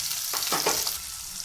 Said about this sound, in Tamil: வெங்காயம் வந்து ஆயிலில் நம்மளுக்கு நல்லா ஃப்ரை ஆகும்